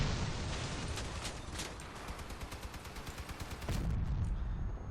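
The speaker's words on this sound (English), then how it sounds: "Yes, cannons do work at close range too." Cannons on a train-plow combat vehicle in Crossout fire at close range, a dense rapid run of loud booming shots with a heavy low rumble.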